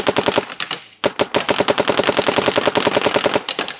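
Electronic paintball marker firing with a ramping trigger board, one brief volley then a pause, followed by a rapid, steady stream of sharp, evenly spaced pops at close range, loud and with no talking.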